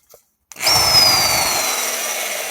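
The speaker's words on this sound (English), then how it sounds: "I just put brushes in that drill." Electric drill with newly fitted brushes: after a short tap and a pause it whirs up abruptly to a loud, steady high-pitched motor whine that holds to the end, heard close and alone.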